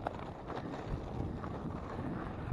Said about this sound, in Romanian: vântul bate foarte tare și s-ar putea să se audă el mai tare decât mă aud eu